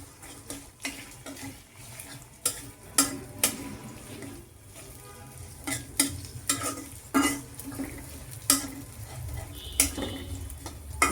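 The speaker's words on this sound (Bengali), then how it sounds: "মশলা বাটা গুলা দিয়ে দিলাম। এবার একটু নেড়ে চেড়ে নিচ্ছি।" Ground spice paste is stirred in a cooking pan for a spicy beef curry. Repeated scraping strokes come at an uneven rhythm over a soft background sizzle.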